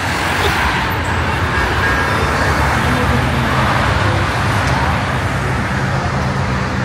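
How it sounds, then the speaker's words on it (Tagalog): Heavy road traffic in Manama, Bahrain on New Year's Day: a dense, continuous roar of cars and other vehicles, loud and close, with faint voices mixed into the steady street noise. "Kita nyo, grabe ang traffic ngayon."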